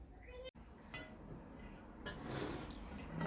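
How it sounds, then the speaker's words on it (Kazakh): Lecho salad vegetables, tomato and bell pepper cut into strips, are stirred together in a large bowl, giving soft, steady scraping and clinking under a low background hum. "Қазір осылардың бәрін үлкен ыдысқа салып, бәрін араластырамын."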